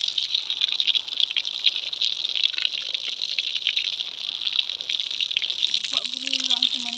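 Water poured and spilling in a continuous close rush, steady throughout, with a voice speaking briefly near the end.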